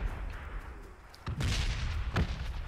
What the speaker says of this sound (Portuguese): Ai, tá caindo o bombardeio ali já.